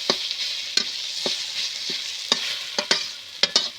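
Ghemia leafy greens stir-fried in a pan, a soft steady sizzle punctuated by sharp scraping knocks of a spatula at irregular intervals, fairly quiet and with no voices.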